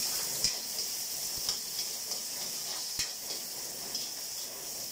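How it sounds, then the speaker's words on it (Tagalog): Garlic and onion sizzling in a hot pan, a steady bright frying hiss punctuated by regular soft clicks and taps of a utensil stirring, close and continuous with no talking. "Bubuhusin natin ang bawang sibuyas. Ganun natin. Okay. Sama-sama na natin yan. Parehas lang yan. Gigisa lang natin yan."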